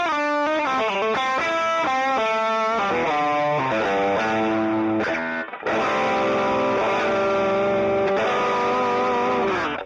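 Electric guitar driven through a Morning Glory overdrive pedal, playing loud, sustained distorted chords and melodic lines continuously with a brief dip near the middle, close and alone without talk.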